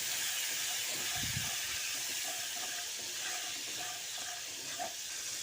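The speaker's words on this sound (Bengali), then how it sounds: "এবার সামান্য জল দিয়ে দিচ্ছি দিয়ে মশলাটাকে ভালো করে কষিয়ে নিচ্ছি" Masala sautéing in a pan with a splash of water gives a steady, soft hiss and sizzle throughout, with faint spoon movements and a low thump early on, no talking.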